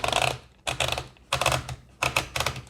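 Four bursts of mechanical clicking and rolling as paper is fed into an Olivetti typewriter by turning the knob against the rubber platen, each about half a second long with short gaps between them, close and fairly loud, with no voices.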